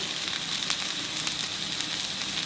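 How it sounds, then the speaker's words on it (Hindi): Finely chopped onions fry in a pan with a steady, dense sizzle that crackles evenly throughout, close and continuous with no talking over it. "इसको 2 मिनट तक फ्राई करेंगे।"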